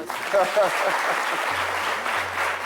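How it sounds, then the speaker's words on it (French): An audience applauds steadily, a dense wash of clapping hands that holds at an even level throughout, with a low hum underneath. "Et on peut applaudir."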